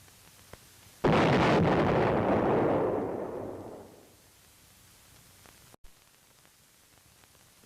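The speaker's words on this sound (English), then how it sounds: "unit commanders may call in artillery or high-angle weapons to demolish tunnel entrances" An artillery blast demolishing a tunnel entrance erupts suddenly as a loud, broad roar that holds for about two seconds and then slowly fades away, with faint quiet before and after and no talk.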